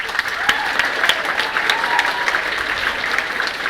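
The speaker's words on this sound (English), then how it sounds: "I'll give them a round of applause." A high school band banquet audience applauds for the sophomore class, a steady, dense clapping close by that holds at an even level for several seconds.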